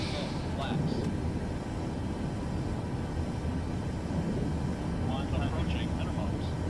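An airliner lands on a runway in Microsoft Flight Simulator, a faint, steady rumble of engines and rolling under a speaking voice.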